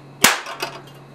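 A capacitor bank discharges through a 2.5-turn coil around a can, giving one sharp, loud crack followed by a fainter secondary snap, against a steady electrical hum.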